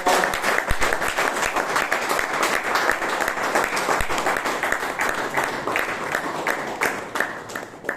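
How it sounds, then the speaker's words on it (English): A room of Toastmasters meeting attendees in Bangalore gives a big round of applause for evaluators and speakers, dense continuous clapping from many hands, loud and sustained for the full stretch. "let's give all the evaluators and all the speakers a huge round of applause"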